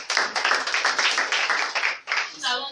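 A church congregation clapping in steady rhythm to acclaim the Lord, rapid even claps close and bright, with voices mixed in throughout and a short break near the end.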